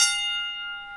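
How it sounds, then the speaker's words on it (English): A single bell strike opens a classic wrestling match, one bright ringing tone with sustained overtones that slowly decays, loud and alone. "Let's ring the bell."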